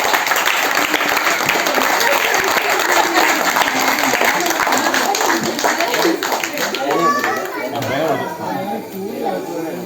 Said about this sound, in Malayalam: എല്ലാവരും ചേട്ടൻ കൈയടി കൊടുക്കണം